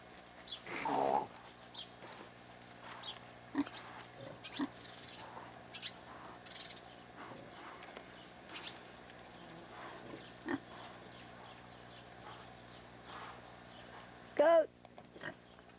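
A pig on a farm grunts and oinks in a few short, soft snorts near sheep and goats, with quiet outdoor background and a person talking gently now and then.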